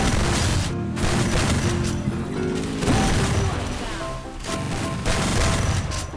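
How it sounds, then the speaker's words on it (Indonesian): Loud shotgun blasts and other gunfire boom repeatedly in a Free Fire battle royale ranked match, dense and close, with dull impacts and game effects layered throughout. "Shotgun 2, shotgun panjang dong."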